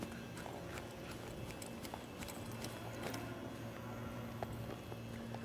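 Horse hooves clip-clop at a walk while working cattle in a cutting arena, soft and steady under a constant low background hum.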